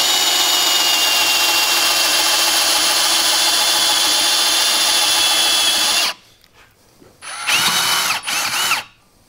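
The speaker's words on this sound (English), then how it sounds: "That's drilling a nice clean hole." A HART power drill fitted with a bit from a drive set bores a hole in wood, giving a steady, loud whine for about six seconds. It then stops, and two shorter, close bursts follow.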